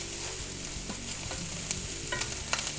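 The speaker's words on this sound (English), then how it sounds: "Give everything a good stir. Keep everything moving." Vegetables frying in butter in a pan while being stirred, a continuous soft sizzle with scattered scraping clicks and taps from the stirring, close and moderately quiet, no voices.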